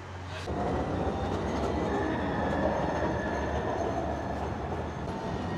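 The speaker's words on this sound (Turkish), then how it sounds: "Tramvayımız geldi, gidiyoruz." A tram in Samsun, Turkey rolls in with a steady rumbling roar and faint wheel squeal, a continuous rail noise close by with no talking.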